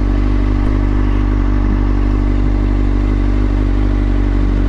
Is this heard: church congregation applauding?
no